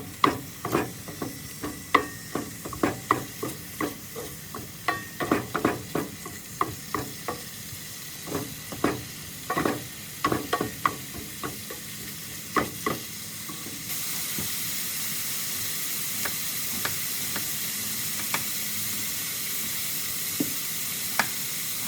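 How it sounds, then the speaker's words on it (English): Meat browning in a hot pan sizzles steadily while a utensil clacks and scrapes at an uneven pace as it stirs. The sizzle swells into a louder, constant hiss near the end, with no voices. "We're going to get this meat browned up real quick."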